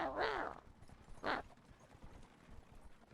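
A horse in the Neverwinter MMORPG makes two short, faint bursts of clip-clop and snorting sound, with quiet game background between them.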